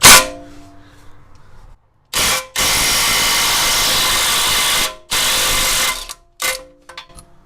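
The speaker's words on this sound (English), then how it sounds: "I'm gonna hit it with this impact gun here." An impact gun loosening a driveshaft on a 1994 Subaru Legacy Turbo fires in several loud, harsh rattling bursts, one lasting a few seconds, separated by short silences.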